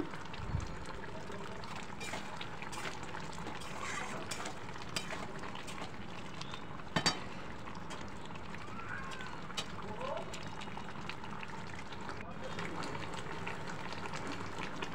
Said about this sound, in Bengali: অনেকক্ষণ ধরেই ফুটছে বন্ধুরা, আমটা প্রায় সেদ্ধই হয়ে গেছে